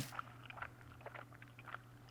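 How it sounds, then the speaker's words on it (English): Faint, wet chewing and mastication noises come from a phone in the Death Mark horror video game, soft irregular smacking clicks over a steady low hum, quiet and muffled throughout with no talk. "Like someone stuffing their cheeks with gum."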